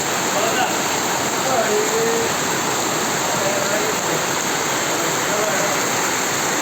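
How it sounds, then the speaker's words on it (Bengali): Heavy rain pours down in a dense, steady roar that stays loud and unbroken throughout, close to the listener, with a dark and stormy sky overhead. "প্রচুর বৃষ্টি হইতেছে আকাশের অবস্থাও বেশি একটা ভালো দেখা যাচ্ছে না"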